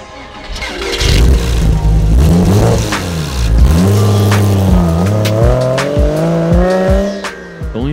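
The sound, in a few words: Porsche 986 Boxster driving, shifting gears and revving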